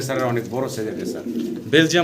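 Belgian racer pigeons coo close by in soft, rolling, repeated calls, with a louder burst of cooing near the end.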